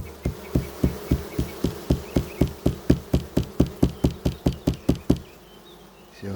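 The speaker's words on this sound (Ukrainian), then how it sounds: "Місцева бджола." Local-breed honey bees hum steadily at a brood frame, nearly drowned out by a rapid, evenly spaced run of sharp taps that stops abruptly near the end.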